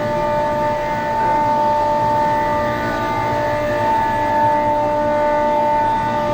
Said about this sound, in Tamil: சத்தம் வந்து கம்ப்ரெசர் சவுண்ட் இப்படி தான் இருக்கும்.